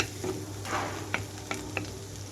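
Onions frying in oil on a high flame for a black gram chutney, a steady sizzle under a low hum with a few sharp clicks of a stirring spoon against the pan, no voices.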